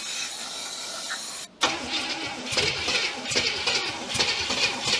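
An abandoned 1967 Cadillac DeVille, its distributor timing off, cranks and catches after a brief silence, then runs roughly with loud popping backfires through a ragged, uneven idle close by.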